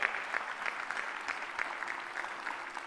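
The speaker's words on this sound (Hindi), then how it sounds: "ताली बजाओ इन सबके लिए।" An audience applauds steadily, a continuous, fairly distant patter of many hands clapping at even strength.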